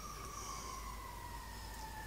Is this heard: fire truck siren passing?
yes